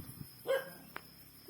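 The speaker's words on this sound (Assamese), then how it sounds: "কুকুৰটা ভুকিছে আকৌ" A single dog barks once, faint and at a distance, with a softer brief yelp after it, against quiet background noise.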